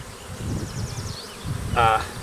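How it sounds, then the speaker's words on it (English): Honeybees buzzing around an open hive, a soft, thin hum close by with faint handling noises and a brief louder buzz near the end. "you can see I got plenty of bees"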